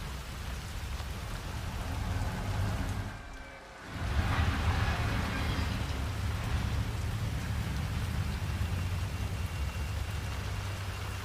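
Steady rain falling in the video game HITMAN 3, a dense close-up patter and hiss over a low rumble, dipping briefly into a near-silent gap before resuming at full strength.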